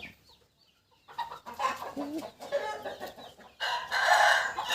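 After a quiet start, a rooster crows loudly and hoarsely, with clucking hens and farmyard noise continuing around it.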